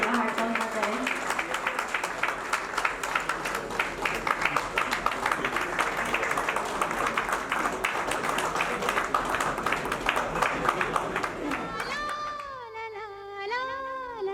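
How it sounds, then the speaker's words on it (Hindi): Crowd clapping loudly at a retirement party, a dense sustained roar of hands for about twelve seconds, then fading as a singing voice takes over. "साथियों, जोरदार तालियों की हड़ताल बजाएं।"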